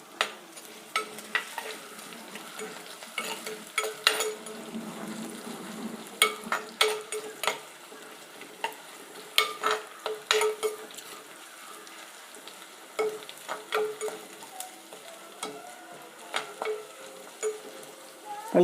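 Garlic, green chili, shallots, curry leaves and ginger fry in a pan for rasam, giving a steady soft sizzle broken by frequent sharp stirring scrapes and clicks, moderately close.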